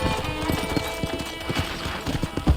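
Galloping horse hooves in the video game Red Dead Redemption, a rapid, close rhythmic clip-clop with a brief whinny-like note mixed in.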